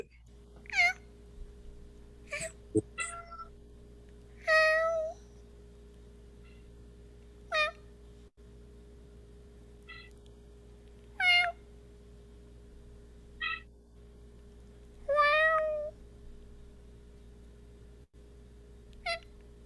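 A cat meows repeatedly, several short separate calls spaced a few seconds apart, clear and close over a steady low electrical hum.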